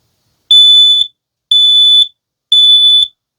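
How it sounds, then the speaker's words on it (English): Smoke alarm under test inside an A-frame, three loud, piercing electronic beeps, each about half a second long, evenly spaced with short silences between, close and alone. "Test your smoke alarm, of course, before every trip."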